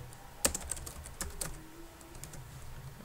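Computer keyboard keys tapped in a short, irregular burst of clicks with one sharper strike near the start, close and fairly quiet over a soft background hum.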